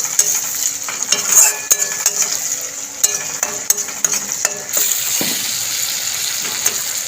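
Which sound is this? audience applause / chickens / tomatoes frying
tomatoes frying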